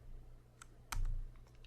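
Typing a short terminal command on a computer keyboard, heard as a few close, soft key clicks, one slightly louder press near the middle, over a low steady hum with no voices.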